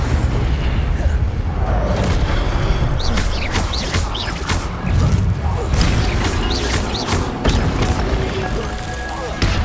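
Incendio fire spells burst out in Hogwarts Legacy gameplay, loud booming blasts and crackling flame whooshes layered over a dense, constant wash of combat noise.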